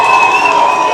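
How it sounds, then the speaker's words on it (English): A crowd cheers in a short, loud burst of whoops and shouting, with little clapping. "let's give the beautiful PA a round of applause."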